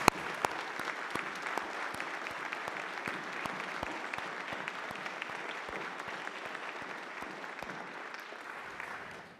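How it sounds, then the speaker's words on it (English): An audience at an Interpol centennial celebration gives a sustained round of applause, many hands clapping steadily with a few sharper claps standing out, slowly fading toward the end. "let's all give them a round of applause"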